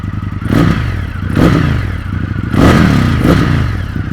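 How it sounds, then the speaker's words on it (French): An Indian FTR 1200 S with a twin-cylinder engine of two 600 cc pots and a Akrapovič exhaust cranks with a straining starter and barks into a deep, rough note, loud and close in several surges. "On sent le démarreur à la peine pour allumer ces deux gamelles de 600 cm3 et ce son extrêmement grave, extrêmement rauque"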